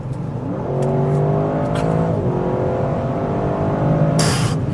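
An Audi RS6 Performance estate accelerating hard on the Autobahn, its engine note climbing steadily through the gears with a brief dip at a shift, heard from inside the car over a steady road roar.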